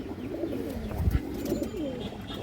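An old-line ring-eyed pigeon coos in low, rolling murmurs, near and moderately quiet, with a brief thump midway and no speech.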